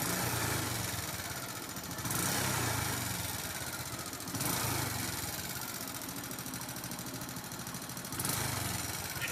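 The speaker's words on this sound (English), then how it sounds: "These dogs are waiting for this motorbike to move so they can chase it." Motorbike engine idling steadily nearby, a loud continuous mid-pitched rumble with a few brief surges in revving, no voices over it.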